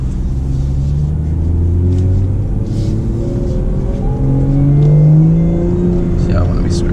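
A modified BMW 340i M Sport pulls hard in first gear. Its deep, loud engine rumble rises steadily in pitch through the whole run, close up from the cabin.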